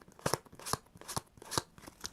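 Tarot cards set down one after another on a table, several brief crisp slaps and slides in an irregular rhythm, close and fairly quiet with no talk.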